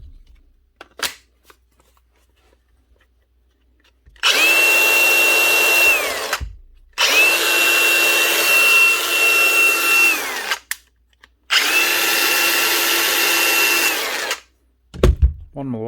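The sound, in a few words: Milwaukee grinder running after paddle switch repair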